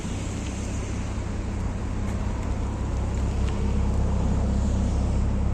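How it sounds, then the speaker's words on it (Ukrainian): Exhaust of a 2008 BMW 535 with all-wheel drive, a steady low idling rumble with broadband hiss, constant and moderately loud, no talking. "Дивіться, друзі, який вихлоп стоїть"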